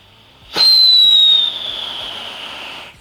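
A firecracker goes off with a sudden pop and a shrill whistle, then fizzes and crackles steadily before dying away.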